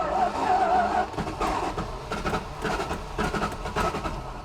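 The General Lee car's engine cranks and rumbles in fits and starts, with rough bursts of mechanical noise rising and falling, fairly close.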